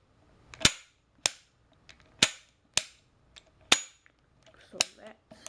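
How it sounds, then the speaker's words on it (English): A toy cap gun revolver, part of a set of Civil War replica items, fires caps in seven sharp, loud cracks at irregular intervals, each with a brief ringing tail, and no one speaks over them. "You can also shoot it with caps, see, like that."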